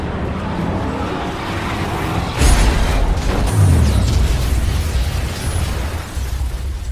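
A deep, rumbling explosion in a film, as a car drops down an elevator shaft, booms out amid a constant roar of engine and debris noise, the blast hitting hard and rolling on for seconds.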